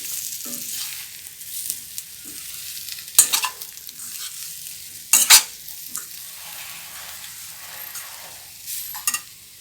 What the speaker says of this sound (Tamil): தேங்காய் துருவல் போட்டு நல்லா கிளறிட்டு ஆஃப் பண்ணிடலாம்